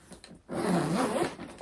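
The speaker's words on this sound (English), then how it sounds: "So then the zipper does just go one way," A zipper on a wide Beauty and the Beast bag is pulled in one quick, steady run lasting about a second, loud and close, after a brief soft rustle.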